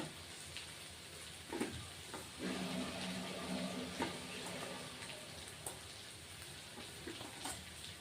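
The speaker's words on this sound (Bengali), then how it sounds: "আর এখন ভেজে রাখা মাছগুলিও দিয়ে দিচ্ছি" Pre-fried small fish go into a sizzling pan of mixed small-fish curry with vegetables, producing a faint, continuous crackle with occasional soft stirring clicks.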